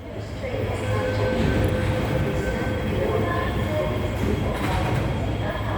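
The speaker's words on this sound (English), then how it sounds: "And this train goes to Admiralty now." A Hong Kong metro train at Lok Ma Chau station makes a steady, loud rumbling rail roar with faint wheel squeal and clatter, heard close from the platform, continuous for several seconds.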